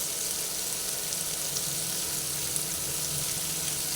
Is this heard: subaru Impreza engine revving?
no